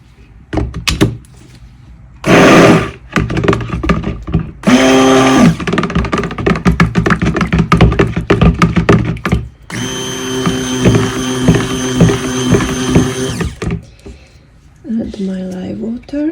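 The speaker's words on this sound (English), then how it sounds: "I will put the blender in right" Stick blender whirring in short bursts through soap-making oils with Himalayan salt lye water nearby, a loud steady motor hum that starts and stops several times with clunks between, a voice talking now and then.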